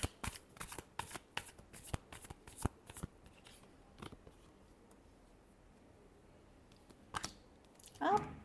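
Tarot cards riffled and shuffled in a quick run of crisp, close flutters, followed by a quiet pause and then a final short shuffle burst.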